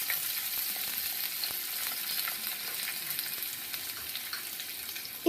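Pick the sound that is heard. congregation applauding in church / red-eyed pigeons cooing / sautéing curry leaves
sautéing curry leaves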